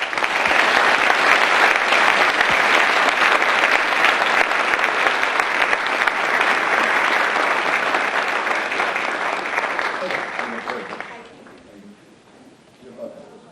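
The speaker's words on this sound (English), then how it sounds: "let's welcome Ms. Sasamori and Professor Hatasa with a round of applause" An audience claps to welcome Ms. Sasamori and Professor Hatasa at an evening talk, loud dense applause filling a hall for about eleven seconds before tapering off into quiet room noise.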